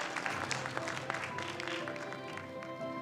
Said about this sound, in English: Can we please give her another one round of applause?